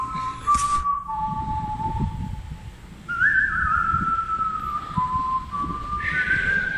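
A person whistles at a campground tailgate, a clear warbling tune in several phrases that rise and fall, heard alone against a low rumble of outdoor background noise.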